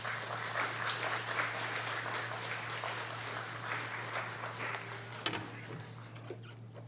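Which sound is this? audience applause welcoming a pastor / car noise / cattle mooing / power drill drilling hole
audience applause welcoming a pastor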